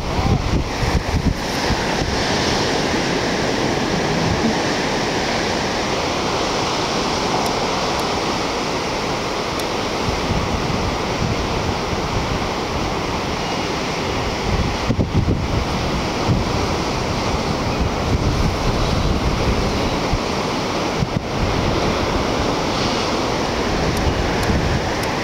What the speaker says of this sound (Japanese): 波早いですね。